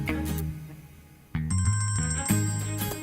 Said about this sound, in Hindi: जी मानी, बाद में फोन कीजिएगा, अभी बहुत इंपॉर्टेंट मीटिंग चल रही है।